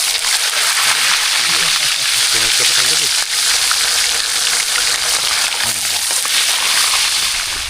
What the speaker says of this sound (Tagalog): Habang piniprito pa yung iba.